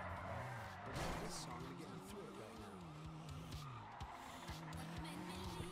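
Motorbike getaway in the video game GTA RP: a game engine revs and whines with wavering pitch and tires screech along, loud and continuous, while players talk over it.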